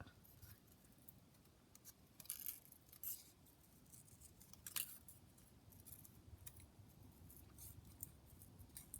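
Scissors snipping paper while cutting out a small rosebud image for a journal collage, a few quiet close snips and paper rustles over a low background hum.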